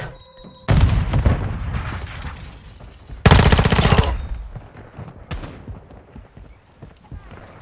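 A Semtex grenade detonates in a Warzone Mobile multiplayer match: a loud, close burst of gunfire and a heavy blast, then rumbling debris and scattered shots fading out.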